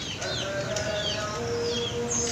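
Cucak perling songbirds in a small home aviary, giving faint thin whistles and chirps over a steady background hum with a persistent low drone.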